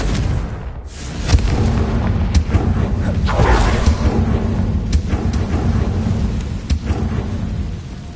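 A Confringo fire spell exploding in Hogwarts Legacy, heard as a loud rumbling boom with a crackling burst that rolls on under steady low game ambience.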